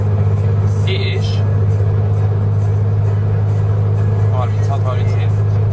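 Steady low engine and road rumble fills a car cabin on a long road trip, with a couple of short faint chirps and clicks over the constant drone.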